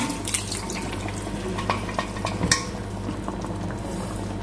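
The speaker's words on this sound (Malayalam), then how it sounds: "നമ്മൾ ഇത്തിരി ചൂടുവെള്ളം ഒഴിച്ച് എടുത്തിട്ടുണ്ട് നമ്മൾ ഇതിലേക്ക് ചേർക്കുന്ന വെള്ളം" Hot water pours into a bubbling pot of Kerala beef peralan, a close, continuous splashing gurgle with small drips and clinks over a low steady hum, no voices.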